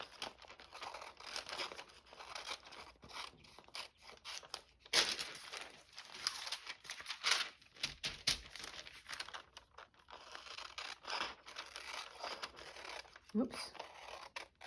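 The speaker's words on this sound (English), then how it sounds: "I just want to cut out the edges" Scissors snipping the edges off a handmade coffee filter journal, with crinkly paper rustling and crisp cuts through the clip and brief spoken remarks in between.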